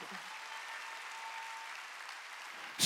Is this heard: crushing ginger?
no